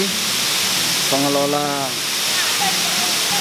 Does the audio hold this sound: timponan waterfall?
yes